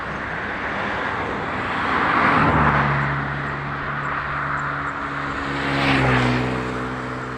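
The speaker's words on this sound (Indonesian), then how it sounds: "Ada mesin potong padi yang sedang bekerja memanen padi." A rice combine harvester working a ripening paddy in Aceh Besar gives a continuous engine hum that swells twice as it passes, with a droning tone over a wide rushing background.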